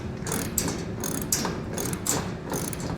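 Bolts being tightened with a ratchet on an over-the-cab Buyers Products truck bed ladder rack on a 2021 Ford F-250, rapid clicking ratchet strokes in several bursts with brief pauses, close and fairly loud, no talking.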